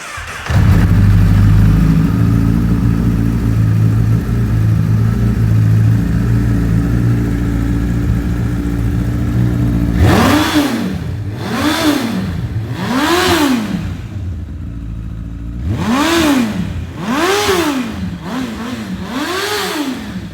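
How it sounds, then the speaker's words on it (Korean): A Honda CBR1000RR superbike with a full Yoshimura exhaust starts with a loud roar and settles into a rough idle, then is revved hard six times in quick succession. "방금 시동을 켜고 엔진 사운드를 들어보셨는데요."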